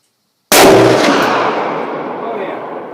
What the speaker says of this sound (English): what actually factory will do